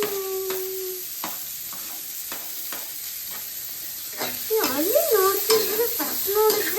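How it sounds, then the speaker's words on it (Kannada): Onions frying in a pan for a vegetable ragi soup, a steady hiss of sizzling with stirring scrapes and clinks in the foreground, the frying swelling louder midway as the spoon works the pan. "ಫ್ರೈ ಆಗಿದ ತಕ್ಷಣ ಆನಿಯನ್ ಹಾಕೊಳ್ಳೋಣ."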